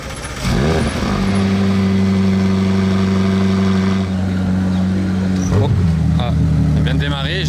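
Ferrari Novitec sports car engine idling on a Monaco street, a steady deep rumble with a slight rev toward the end, close and loud, with people talking over it.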